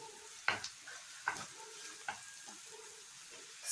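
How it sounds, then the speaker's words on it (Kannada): Onions sizzle in hot oil in a pan for a dill leaf stir-fry, a soft steady frying hiss broken by a few sharp clinks and scrapes of stirring, close and fairly quiet. "ಈಗ ಈ ಆಯಿಲ್ಗೆ ಈರುಳ್ಳಿ ಹಾಕ್ತಾ ಇದ್ದೀನಿ, ಉಳ್ಳಾಗಡ್ಡಿನ."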